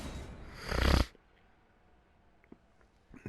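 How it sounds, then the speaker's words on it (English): Short burst of wet nasal sniffling, close and fairly loud, lasting about a second, followed by near silence with a few faint clicks. "Sorry for the gross sniffling noises."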